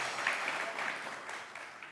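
Studio audience applauding on a family entertainment TV show, a steady wash of clapping from many hands at moderate level, with no one speaking over it.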